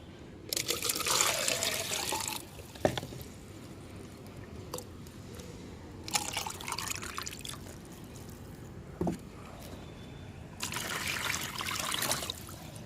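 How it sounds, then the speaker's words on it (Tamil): Water poured from a container into a banana peel mixture for fermenting garden fertilizer, with three bursts of splashing, trickling liquid separated by quieter gaps and a few small drips, no voices. "2 மடங்கு தண்ணி ஊற்றிக்கலாம்."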